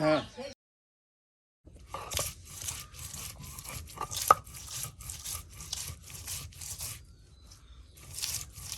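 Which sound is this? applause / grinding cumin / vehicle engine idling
grinding cumin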